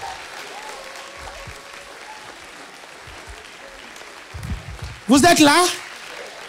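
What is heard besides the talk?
congregation applauding the Lord in church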